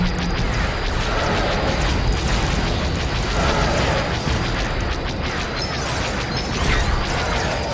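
A TIE fighter blowing up in Lego Star Wars: The Complete Saga, loud crashing explosion debris amid dense continuous space-battle noise, with repeated bursts over several seconds.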